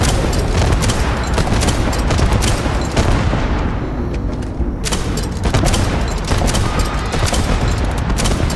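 Rapid gunfire in the video game Starfield rattles loud and close in dense automatic bursts, breaking off briefly midway before another heavy volley resumes.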